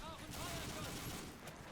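A German Panzer tank fires in a World War II video game battle, with dense, continuous gunfire and rumbling explosions blended into a constant wash of battle noise.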